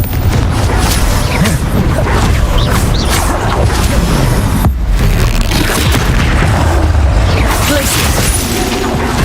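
A Confringo blast spell explodes in Hogwarts Legacy, a loud, continuous barrage of booming impacts and crashing debris that fills the whole stretch with only a brief dip midway.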